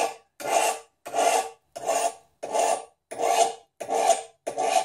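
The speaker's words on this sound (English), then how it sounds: "I'm trying to keep the same angle with the file." A hand file sharpens a knife edge in eight steady strokes with brief pauses between them, each a close, loud, gritty rasp at a regular back-and-forth rhythm.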